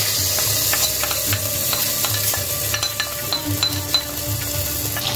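Rice frying in fat in a pan while being stirred, a steady sizzle broken by repeated scraping strokes and light clinks of the spoon against the pan, close and fairly loud with no talking.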